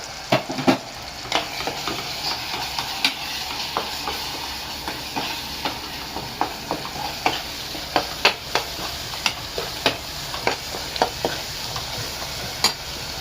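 Spice masala of red chilli powder, coriander powder, kitchen king, goda and garam masala frying in a pan, with a steady close sizzle and repeated sharp scraping stirs at a brisk, uneven rhythm.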